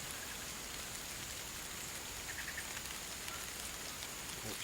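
Steady rain hisses evenly and softly, a constant wash of falling drops with no pauses or other sounds standing out.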